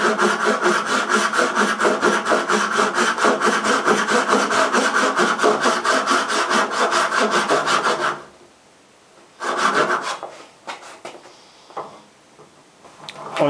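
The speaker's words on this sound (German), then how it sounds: "Die ist nicht ganz so, sägt so schnell, dafür sauber und genau." Hand saw cutting through wood on a homemade saw, steady rapid back-and-forth strokes for about eight seconds, then stopping, followed by a few brief scraping and handling sounds.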